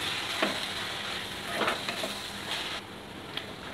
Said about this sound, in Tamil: புதினா இலையை வந்து இதில் சேர்த்தாச்சு. இப்போ வதக்கி விட்டுருங்க.